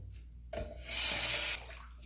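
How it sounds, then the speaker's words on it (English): Hot water runs from a tap in a bathroom during a wet shave, a brief rushing gush that swells for about a second, then drops back to a quieter trickle under a low hum. "We have good hot water here"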